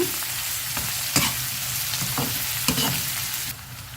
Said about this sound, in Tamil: வெங்காயம் பச்சை மிளகா இஞ்சி கருவேப்பிலை போட்டு நல்லா வணக்கிடுங்க